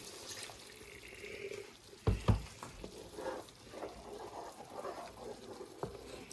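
Brown gravy simmering and thickening in a pan gives a soft, steady low sizzle and bubbling, with a couple of louder stirring scrapes around the two-second mark and a faint clink near the end.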